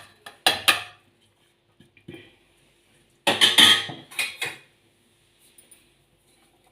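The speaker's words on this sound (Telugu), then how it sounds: "ఇప్పుడు ఇవన్నీ జార్లోకి వేసుకోవాలి" Tomato, tamarind and coriander tipped into a steel mixer jar for eggplant chutney, making a few short clattering clinks and thumps in two main bursts, with quiet gaps and small taps between.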